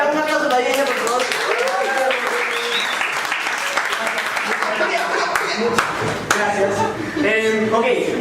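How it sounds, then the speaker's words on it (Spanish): Audience applause and scattered cheering fill a lecture hall on the history of reggaeton in Panama, a dense continuous clapping with voices calling out over it, steady and fairly close throughout. "Un aplauso para Dien Yaman, por favor."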